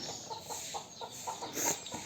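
Hens and chicks cluck in a village yard: a quick, regular run of short clucks repeats close by against soft background noise.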